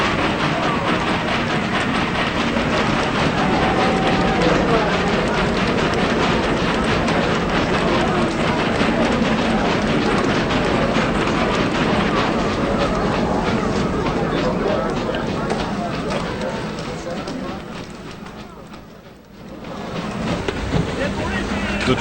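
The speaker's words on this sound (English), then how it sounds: "The train takes the waste granite or grout from the quarry to dump it in the ocean" A quarry train carrying waste granite rumbles along rail tracks on Crotch Island with a constant heavy roar and faint rhythmic clatter, loud and close, easing briefly near the end.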